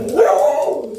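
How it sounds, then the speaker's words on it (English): A dog barks loudly and close by in a backyard, a single sustained bark-howl lasting about a second. "my dog's barking to my backyard"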